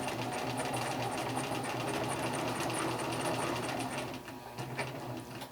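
A sewing machine running steadily as it stitches the back-stitch side of a buttonhole, with a fast, even mechanical whir and rapid needle ticking that slows slightly near the end. No voices.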